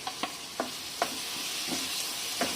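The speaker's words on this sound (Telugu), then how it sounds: "ఆనియన్స్ మగ్గుతున్నాయి కదా, దీంట్లో చాప్ చేసుకున్న టమాటో కూడా వేసుకుందాం" Onions and chopped tomato sautéing in a pan for an egg curry give a steady close sizzle, broken by about half a dozen quick scraping stirs, with no voices.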